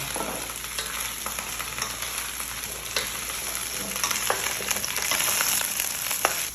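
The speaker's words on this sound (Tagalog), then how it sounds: "Naglagay na ako sapat ng oil at ilalagay ko siya. Hahaluin ko lang siya hanggang mag-brown yung color." Okra fries in oil while being stirred until it browns, a dense, fairly loud sizzle that runs continuously with scattered clicks and scrapes of the spoon, with no voices.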